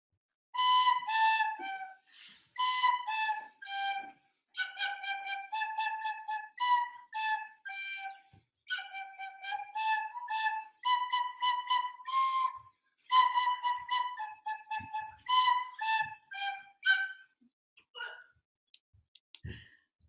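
A whistle plays Hot Cross Buns in short, breathy toots, with grouped notes repeating in phrases and brief pauses between them over about twenty seconds, close and clear with no talk.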